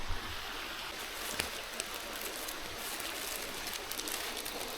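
A riverside stream flows in a steady, broadband rush of water that stays even and continuous throughout, with no voices over it.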